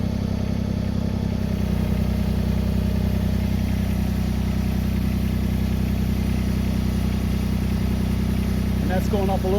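A tractor with a backhoe attached runs in high range at 1300 RPM, its engine a loud, steady, close-up drone with a rough rumbling throb that holds constant throughout.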